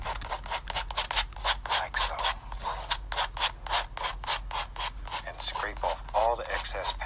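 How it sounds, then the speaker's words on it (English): A painting knife scrapes excess oil paint off a canvas in quick rhythmic strokes, each one a sharp, close rasp, a dozen or more in a steady back-and-forth pattern. "You really, really can't scrape too hard."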